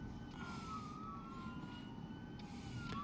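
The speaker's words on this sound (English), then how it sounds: "Now we have an ambulance escort." An ambulance siren wails in the distance, its tone sweeping up and down over a steady road rumble inside a moving vehicle.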